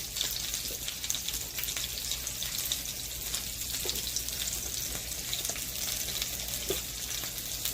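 Sausage patties fry in a hot pan with a steady, even sizzle and crackle that runs unbroken from start to finish, close and moderately loud, with no voices.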